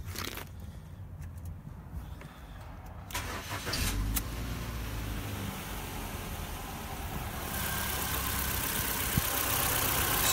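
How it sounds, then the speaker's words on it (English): A Ford Fusion starter motor cranks the engine on a poor cold start during a battery test, a steady whirring grind that builds to a sustained engine roar, close and alone. "give it a quick crank"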